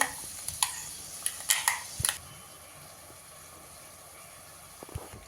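Spinach puree goes into a pan of rice and is sautéed. A handful of sharp spoon clinks come first, then a faint, steady sizzle stays close by without speech.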